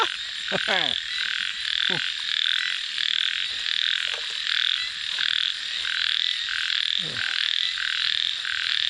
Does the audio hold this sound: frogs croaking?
yes